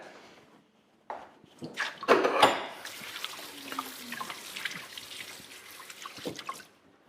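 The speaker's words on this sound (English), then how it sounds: "I'm just going to wash my hands again." Hands being washed under a running kitchen tap, water splashing and spattering close by with uneven bursts as the hands move through the stream, no talking.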